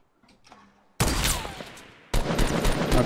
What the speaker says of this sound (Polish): No, strzela teraz.